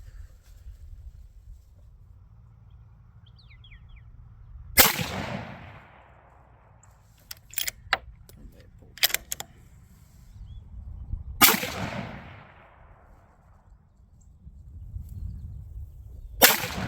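A Seekins Precision Havak PH2 hunting rifle fires at a range target, two sharp loud cracks several seconds apart, each with a ringing decay, plus small clicks and handling noises in between.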